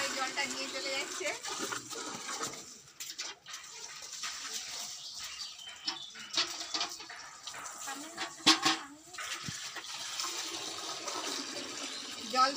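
Water gushing from a pump machine into a container at home, a continuous close splashing hiss with shifting texture, with voices talking over it.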